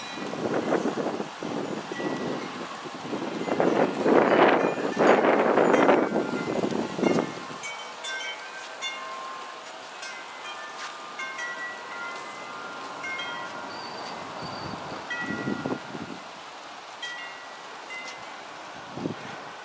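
G scale Southern Pacific model train with a long string of cars running on track, a steady low rumble and clatter, louder at first with some rustling noise, then settling into a quieter continuous running sound.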